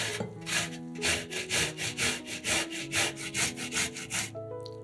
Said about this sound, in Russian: Одну большую отварную свеклу трем на мелкой терке.